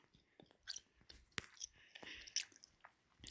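Someone chewing gum close to the microphone, a run of wet, irregular smacks and clicks with a few sharper snaps, quiet overall and without speech.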